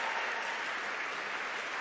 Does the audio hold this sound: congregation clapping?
yes